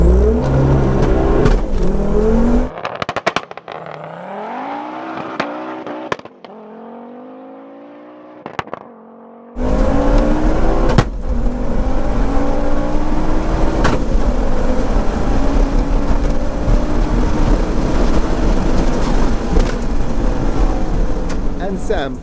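An AWD-swapped 530 hp manual Focus ST and a 530 hp DSG Golf R run a quarter-mile drag race, with loud engines revving hard through rising gear pulls and quick shifts. A voice speaks over the roar.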